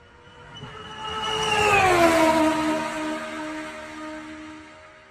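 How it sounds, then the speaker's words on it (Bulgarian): Synthesized passing-car effect from an electronic keyboard: a tonal engine-like whine rises in volume, then its pitch sweeps downward as it goes by and fades away, heard alone. "Можем дори да възпроизведем и бързо преминаваща кола."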